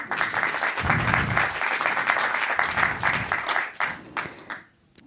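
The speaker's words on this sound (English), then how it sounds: "Give them an applause" A crowd applauds steadily with dense clapping that fades out near the end.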